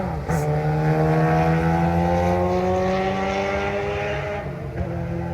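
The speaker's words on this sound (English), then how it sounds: "let's wait for that motorcycle. It's super loud" A loud engine roars close by with a steady, strong hum that slowly shifts in pitch, like a motorcycle passing, fading a little toward the end.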